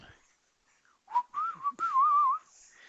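Someone whistles a short wavering tune nearby, a few clear phrases with brief pauses, alone without other sounds.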